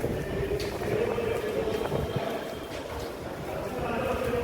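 A train at a railway station during an evening trip home, a steady close rumble that stays at an even level throughout, with faint clanks and scattered station noise.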